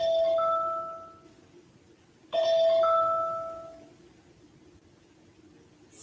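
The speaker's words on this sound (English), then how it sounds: "Sorry about my phone." A phone chime sounds twice during a quiet stretching class: each time two clear, bright tones ring out and fade, alone over a faint background hum.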